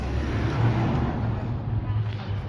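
Busy London street traffic with a steady, close rumble of passing cars and engines and no clear single event.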